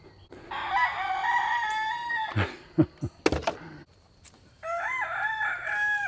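Roosters crow in turn, with a long, loud crow, a few sharp clucks and knocks, and then a second crow answering close by.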